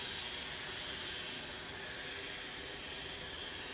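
A small Cessna Citation business jet departs Manchester Airport, its broad steady jet roar holding loud and even throughout with no talk over it.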